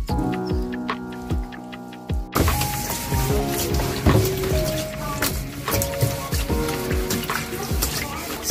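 Splashing, running water with scattered knocks and clatter as a catfish tank is rinsed out, under a busy outdoor background with birds and faint voices.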